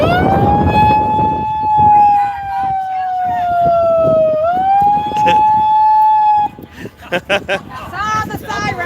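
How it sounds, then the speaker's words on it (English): A loud siren at a rally wails in a long sweeping tone, dipping and rising before cutting off, followed by faint clatter and background noise. "Sound the siren."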